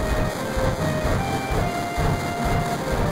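Train rolling along rails inside the Final Fantasy VII video game, a steady loud low rumble with faint high tonal lines running throughout, no speech.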